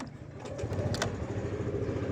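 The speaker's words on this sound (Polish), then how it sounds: "jak to Honda odpala na dotknięcie, chodzi bez zarzutu" A 2016 Honda Forza 125 scooter runs at idle, a low, steady engine rumble with a few faint ticks and clatters near the start, fairly quiet and close.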